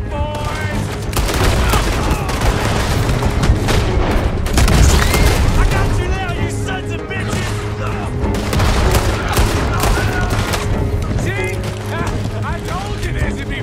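Dual-wielded guns fire in Red Dead Redemption 2, dense rapid volleys of shots with booming impacts over a steady game backdrop, while people talk throughout.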